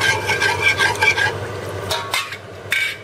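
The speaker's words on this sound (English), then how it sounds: "Now we need to mix everything well and we need to bring it to boil." Utensil scrapes and stirs a chicken garlic sauce with milk in a pan, with soft scraping strokes over a gentle simmering sizzle, close and moderately loud, no talking.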